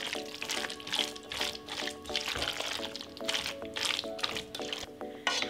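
Pickle brine from a jar of cucumbers pours and drips into a bowl of salad, making faint, repeated wet splashes and squishy stirring sounds over a soft background of music.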